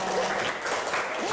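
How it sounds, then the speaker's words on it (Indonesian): Classroom audience giving students a round of steady applause, dense clapping throughout with voices mixed in. "Kita kasih tepuk tangan untuk semua."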